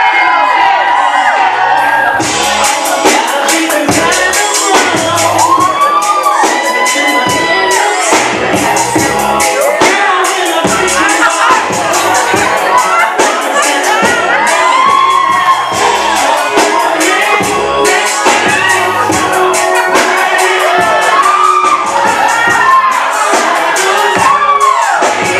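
Wedding guests cheer, whoop and shout loudly as a crowd, a continuous dense roar with excited voices rising and falling throughout.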